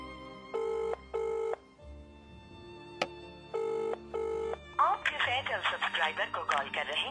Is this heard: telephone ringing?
yes